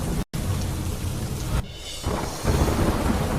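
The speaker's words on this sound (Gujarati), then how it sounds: "ભારે વરસાદના કારણે નદીઓ તોફાની બની।" Heavy monsoon rain pours steadily in the Nilgiris while thunder rumbles, with a brief break in the sound early on and a sudden shift in the downpour's texture partway through.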